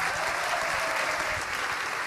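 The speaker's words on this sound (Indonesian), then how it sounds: "Tepuk tangan buat Mbak Happy" Steady applause from a crowd at an Islamic religious gathering with sholawat singing, dense, continuous clapping filling the whole moment without talk over it.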